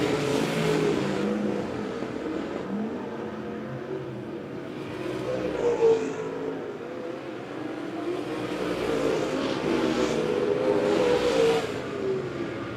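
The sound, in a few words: USRA stock cars racing around a speedway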